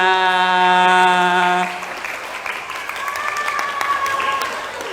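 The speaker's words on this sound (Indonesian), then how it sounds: "Mantap, tepuk tangan untuk kita semuanya." A mosque audience at a Ramadan storytelling session breaks into scattered clapping after a sustained tonal sound fades, the claps mixed with talk and lingering melodic tones, moderately loud.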